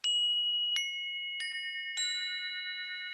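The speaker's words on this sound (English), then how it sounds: "Let's play some chimes because these are good." Four bright chime strikes ring out one after another at a steady pace, each tone building on the last and sustaining into a clear shimmering chord, close and clean with no talking.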